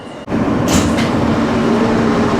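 NYC Subway R160B Siemens Q train running between stations, a loud steady rumble with motor whine and rail noise heard from inside the car, continuous throughout.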